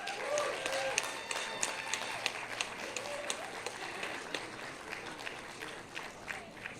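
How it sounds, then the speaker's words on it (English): A crowd at an outdoor May Day workers' celebration claps for the speakers, a modest, scattered applause with sharp individual claps and some voices mixed in. "let's give another round of applause for all of our speakers"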